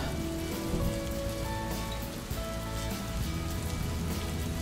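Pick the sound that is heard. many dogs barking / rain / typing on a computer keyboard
rain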